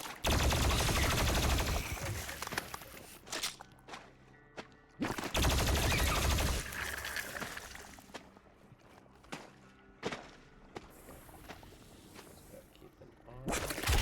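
A plasma rifle fires in Doom Eternal, loud sustained bursts of rapid energy shots with heavy blasts, punctuated by sharp impacts and pauses amid dense game combat noise.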